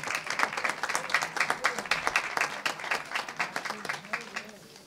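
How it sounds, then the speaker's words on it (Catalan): A crowd applauds steadily for several seconds, dense overlapping claps that gradually thin and fade toward the end. "Li fem un aplaudiment."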